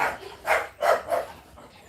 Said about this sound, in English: How do I get these dogs to calm down?